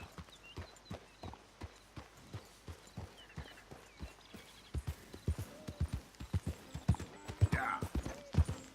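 Hooves of a horse in Red Dead Redemption 2 clop at an even walking rhythm, close and steady, quickening slightly toward the end, with a brief snort or whinny and a few voices in the background.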